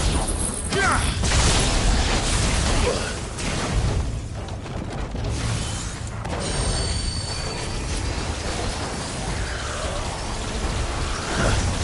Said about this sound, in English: Give me thunder!